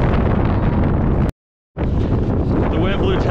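Strong wind roars across the microphone high on a ski mountain, loud and continuous. It cuts out briefly in the middle, then returns just as loud.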